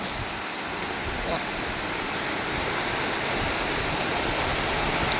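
Heavy rainstorm pouring down at a Thai temple on an evening, a dense unbroken roar of rain and runoff, loud and close throughout with no pauses.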